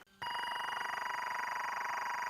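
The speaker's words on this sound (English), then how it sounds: "the MPC has a mode where it can spit out this really annoying sound," An Akai MPC60 outputs its sync timecode signal, a continuous harsh, buzzy electronic tone with a steady pulsing warble. It starts abruptly after a brief lower tone and runs unbroken at a constant level.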